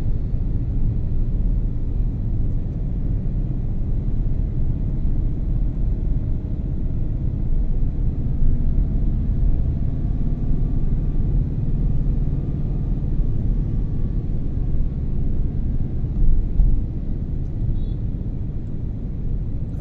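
Steady, dense traffic rumble surrounds a motorcycle crawling through congested roads between BGC Taguig and PITX, a continuous low drone of engines with no breaks.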